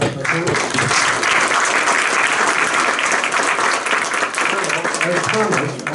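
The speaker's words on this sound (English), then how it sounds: "A round of applause for our panel." Loud, sustained applause from a conference audience after a panel discussion on smartphone-connected mobile devices, a dense steady clapping that fills the room for several seconds.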